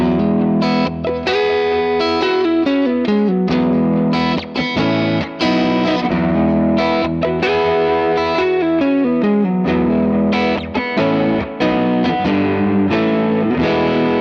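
A headless electric guitar with swamp ash or walnut body played through distortion and chorus effects, a continuous run of chords and notes, loud and close, with no voices.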